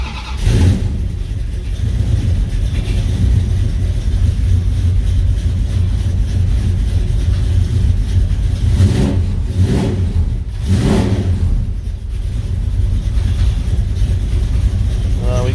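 Plymouth Duster engine with newly fitted mufflers runs steadily and loud throughout, with a couple of revs swelling near the middle; a slight rattle sits within the fairly subdued exhaust note.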